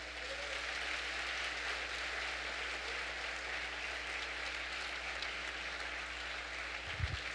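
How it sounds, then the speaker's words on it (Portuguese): A church congregation applauds during a worship service, a faint, even wash of clapping spread through the hall under a steady low hum, with a brief low thump near the end. "Aplauda ao Senhor em nome de Jesus."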